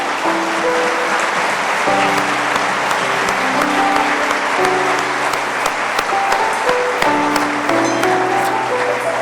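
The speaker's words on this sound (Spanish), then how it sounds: "Le damos un fuerte aplauso al Señor" A church congregation claps loudly and continuously during a worship service while sustained organ or keyboard notes play underneath, the applause holding steady for several seconds.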